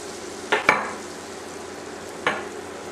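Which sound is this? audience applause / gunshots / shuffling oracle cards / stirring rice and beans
stirring rice and beans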